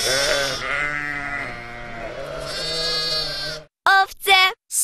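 Sheep bleat loudly and close by: one long, wavering bleat, then two short, sharp bleats after a pause.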